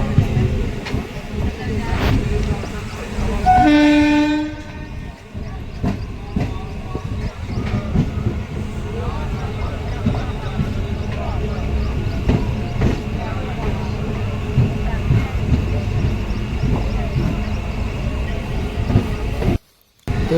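A train rumbles past nearby near Sri Anandpur Sahib station during Hola Mohalla, with a long horn blast early on, then a continuous heavy rolling clatter of wheels on track.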